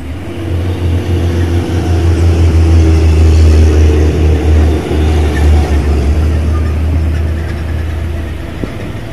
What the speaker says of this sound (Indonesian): truk Fuso box ini akhirnya selamat dari tanjakan Bukit Kodok